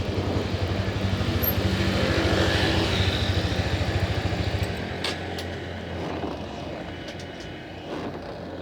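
A clutch motorcycle engine pulls away as the clutch is released slowly without throttle, a steady loud rumble that eases into a lighter, lower running note partway through.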